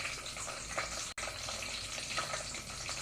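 Half an onion fries in a pan alongside a spoonful of seeds: a steady, close hiss and crackle of sizzling oil that cuts out for an instant, then resumes at an even level.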